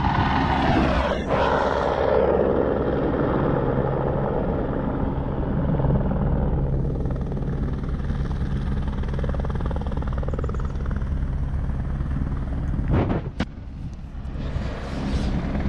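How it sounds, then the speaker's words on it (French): A helicopter flies overhead in the mountains of the Pyrenees, a loud, steady rotor thump and turbine roar filling the whole stretch, with a brief sharp crackle near the end. "j'ai appelé un hélico pour qu'il me ramène la bagnole"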